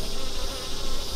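Honeybees buzzing at a beehive frame during an apiary inspection, a dense, steady close-up hum of many wings filling the short moment with no voices.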